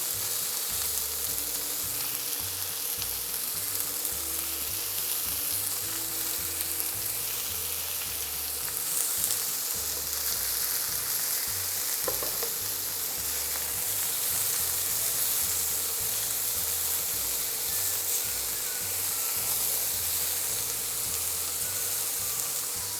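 Pork pieces fry in a single layer in an oiled pan for a pork teriyaki, giving a steady, close sizzle and crackle that runs unbroken throughout, with no talking.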